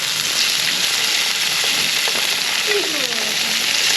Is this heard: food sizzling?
yes